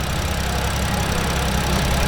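At a European car meet, a car engine idles steadily and close by, a loud continuous low rumble with an even throb and no revving, while no one speaks.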